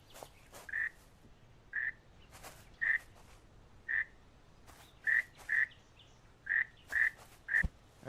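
Frog croaks from a video game, short bright repeated calls roughly every second, some in quick pairs, over a low steady hiss with faint clicks between them; no talking.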